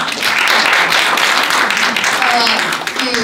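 Steady audience applause at a university Buddhist club anniversary event fills the room throughout, loud and dense, with faint voices mixed in near the end.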